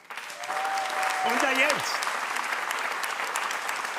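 A studio audience at a German Schlager television show claps in a sustained, even wash of applause while someone speaks briefly over the start.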